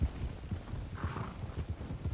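Horse hooves clip-clop at a steady trot in Red Dead Redemption 2, a rhythmic series of soft thuds running continuously through the moment with a faint whinny-like tone in the middle.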